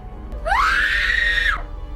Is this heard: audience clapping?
no